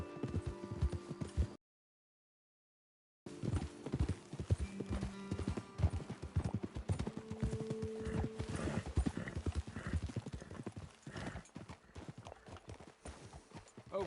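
Horse hooves clip-clopping in Red Dead Redemption 2 in a steady rapid rhythm, close and loud, with a neigh or two, after a brief silent gap near the start.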